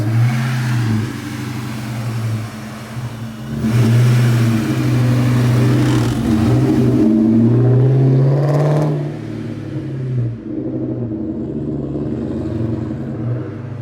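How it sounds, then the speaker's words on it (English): Supercharged Ford Mustang doing a burnout in reverse, with a steady loud low engine drone and rumble that rises into a revving surge midway and then fades, heard close and without talk. "Now do a burnout. Here we go. First burnout in reverse."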